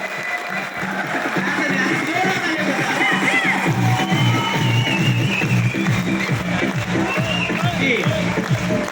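Loud, sustained clapping from a standing seminar audience, with crowd murmur and cheering mixed in and a voice speaking over the applause throughout.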